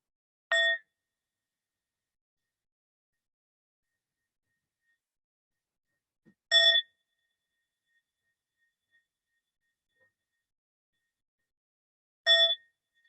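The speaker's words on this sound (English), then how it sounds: "So just have a listen to the bell and just let yourself settle." A meditation bell sounds three times in a quiet room, each a clear bright ring spaced about six seconds apart that fades quickly into silence.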